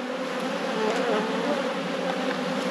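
Honey bees swarm around an open hive during a brood inspection, a dense, loud, continuous buzzing drone close by, steady throughout with no voices.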